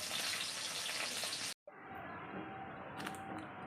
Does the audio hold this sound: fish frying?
yes